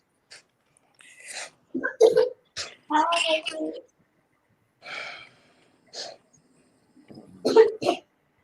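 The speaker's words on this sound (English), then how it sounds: "Oh, don't cough." Several short, breathy coughs come in scattered bursts, close by, with brief spoken words mixed between them.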